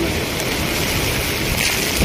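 Strong wind blows during rain in Harda, Madhya Pradesh, making a loud, constant rushing roar with a brief gust at the very end and no speech.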